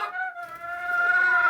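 A chicken gives a drawn-out, tonal cluck-like call that rises and holds, close and clear against a quiet background, alone without talk.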